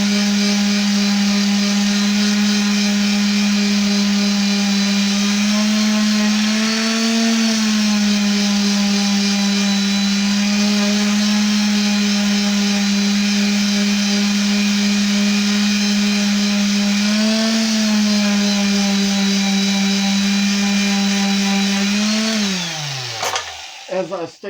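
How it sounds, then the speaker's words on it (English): A power sander runs on a wooden hippo carving, giving a loud, continuous motor whine with a steady pitch. The pitch dips briefly twice under load, then the motor spins down at the end. "these things will occasionally slip out of your hands due to the vibration of the sander"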